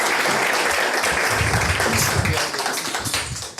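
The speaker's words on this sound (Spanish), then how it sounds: "Un aplauso para mi Club de Leones." Applause for a Lions Club rises from an audience at an interview program event, a steady patter of hand clapping that thins out into scattered claps near the end.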